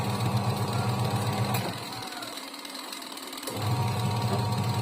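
An automatic washing machine runs with a steady mechanical hum and churning, dropping briefly to a quieter lull mid-way before the motor picks up again, loud and close with no talk.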